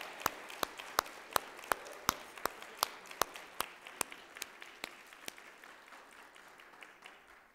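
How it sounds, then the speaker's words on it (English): Clapping follows a church Christmas special program, heard as a run of distinct, evenly spaced claps that gradually thin out and fade over several seconds. "everybody that helped deserves another clap"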